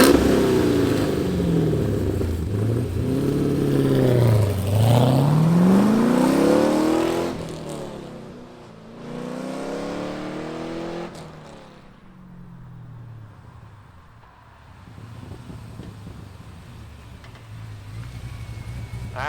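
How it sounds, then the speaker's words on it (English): The engine of a restomodded 1965 Chevrolet Corvette Stingray starts and revs hard in rising and falling sweeps, then drops back to a quieter, rumbling idle, close by and with no talking. "Let's fire up this Restomodded 65 Stingray and hear what it sounds like."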